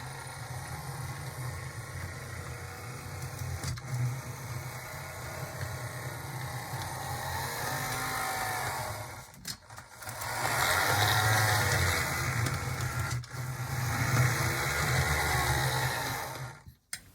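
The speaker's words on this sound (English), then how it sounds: "mostly what I hear is gear noise." HO scale Roco Baldwin model locomotive in Pennsylvania Railroad livery running on track, a continuous whirring motor and gear noise that fluctuates and grows louder in the latter half, ending with a brief clunk.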